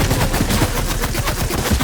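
Rapid, continuous gunfire from a video game, dense bursts of shots firing back to back at steady loudness with no talk.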